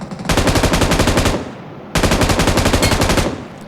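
M249 machine gun firing in PUBG Mobile, two loud sustained automatic bursts of rapid rounds separated by a brief pause, with no talking.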